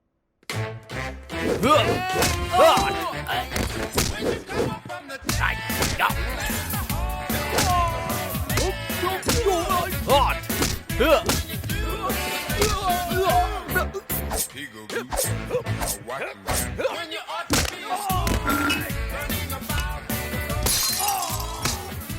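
Punches and heavy blows land in a Hindi-dubbed action movie fight scene, loud and dense, with thuds and shattering crashes over a driving music score and occasional shouted voices.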